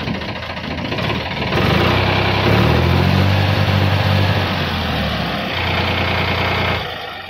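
A Farmtrac 45 tractor engine runs close by, a loud, steady diesel idle that thrums evenly throughout with no talking.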